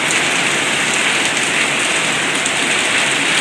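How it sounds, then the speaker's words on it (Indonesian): Heavy rain pours down in a dense, loud, unbroken hiss of drops striking surfaces, close by and with no talking. "Basah nanti sampai ke rumah. Nah, ya, basah tuh, hujannya lebat kali tuh"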